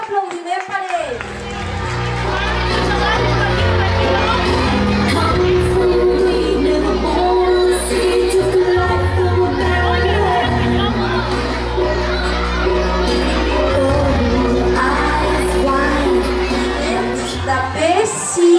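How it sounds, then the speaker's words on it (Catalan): A crowd at a children's prize-giving at a school claps and cheers for a young winner, with sustained clapping, excited children's voices and lively chatter throughout. "Un fort aplaudiment per ell."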